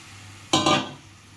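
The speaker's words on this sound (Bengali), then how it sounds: "কড়াই এখানে গরম হয়ে গেছে এখন এই মাছটা দিয়ে ঢাকা দিয়ে দেবো" Fish laid into a hot kadai sets off a sudden, loud burst of sizzling that swells for a moment and then quickly fades. No one speaks.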